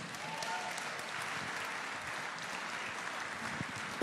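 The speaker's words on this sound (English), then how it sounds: "Massive round of applause" Steady, dense applause from an audience at the Original Music Awards 2024, filling the whole stretch at an even level without a break, with a faint voice or two mixed in beneath the clapping.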